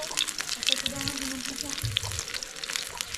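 Food sizzles and crackles steadily in a hot frying pan, close up, with a faint background hum and a few low clunks.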